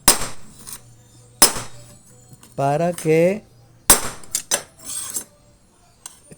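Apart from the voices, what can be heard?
light hammer taps on a sewing machine needle plate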